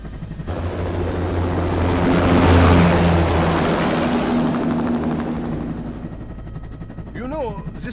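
An aircraft in Metal Gear Rising takes off in semi-auto mode, a loud, steady engine roar with a helicopter-like rotor throb that swells and then slowly eases, with a brief voice near the end.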